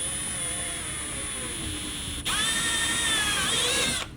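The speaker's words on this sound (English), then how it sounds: "We can take our drill with 5/16 drill bit and just with soft inward pressure" A power drill with a 5/16 bit driving into a Polaris Xpedition fender, a steady whirring motor whine that briefly cuts out, then rises in pitch as it bites before stopping.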